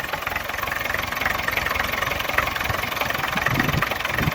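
A motorbike engine idles steadily and loud, with a persistent buzzing rattle from a loose exhaust pipe cap running through the whole stretch.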